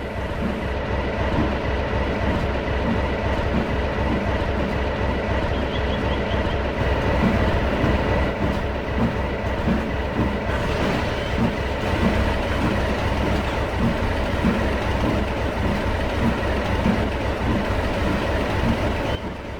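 A train rolls along steadily with continuous rumbling and rhythmic clattering of wheels on track, sustained for the whole stretch.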